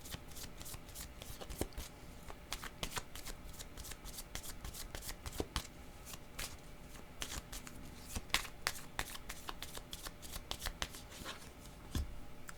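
Tarot cards are shuffled near and alone, with many rapid, crisp riffling flicks in an irregular steady stream and no talking.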